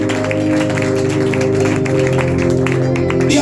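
A church congregation claps loudly and steadily, the sound thick and continuous over sustained worship music throughout.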